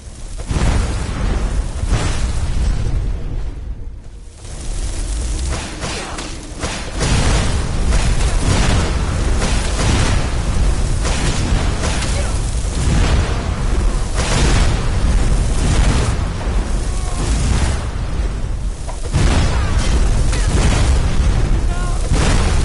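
Repeated booming explosions in the video game Skyrim, loud and dense, rolling almost continuously with one short lull, no voice heard over them.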